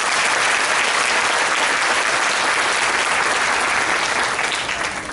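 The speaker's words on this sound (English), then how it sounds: "So let us celebrate each girl child by giving a big round of applause." An audience at a school Durga Puja celebration gives a big round of applause, dense and steady clapping that stays loud for the whole stretch and fades only slightly at the end.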